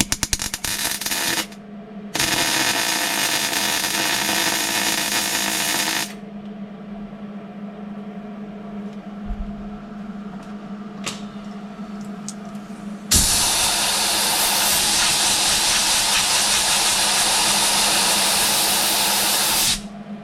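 A MIG welder lays bead to fill a screw hole in the floor pan of a 1969 Dodge Charger, loud crackling hiss in long sustained bursts with brief pauses between, close and without talk.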